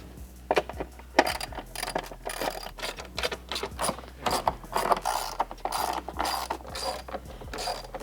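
Ratchet loosening 10 mm bolts on the intake cage of a Porsche 992 911, quick close bursts of metallic clicking mixed with small clinks of parts, fairly quiet and with no talk.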